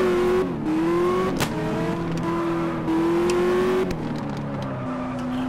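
A Nissan GTR accelerating in the Car Parking Multiplayer driving game, engine pitch climbing steadily through repeated gear shifts, loud and close with no talk over it.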